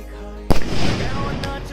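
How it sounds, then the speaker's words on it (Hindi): A sharp firecracker bang sets off a dense crackle of popping bursts, with another loud pop a second later, all against steady background noise. "पापा भी मेरे लिए ऐसे पटाखे लाएंगे"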